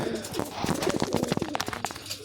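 Pigeons cooing in a loft or yard, a steady run of soft low coos with some bird chatter, fairly close and continuous.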